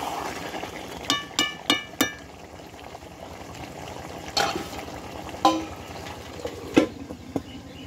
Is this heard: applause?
no